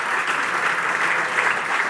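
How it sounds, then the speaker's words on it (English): Warm, dense applause from an audience at an impact investing forum, a steady wash of many hands clapping at an even, fairly loud level with no speech. "can we do a collective warm round of applause to these good people?"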